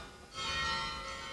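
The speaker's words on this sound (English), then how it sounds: "Oh, listen to the church bells." Church bells ringing in the distance, a faint shimmering peal that swells after a moment and lingers softly.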